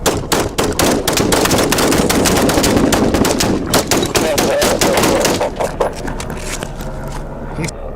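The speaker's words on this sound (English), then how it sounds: "Additional shots fired." A rapid burst of loud gunfire during a sheriff's officer-involved shooting, many sharp shots close together, with voices shouting amid the volley before it tapers off.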